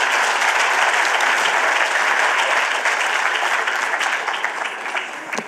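Sustained audience applause at a university State of the University address, a dense, loud, even roar of many hands clapping that slowly thins toward the end.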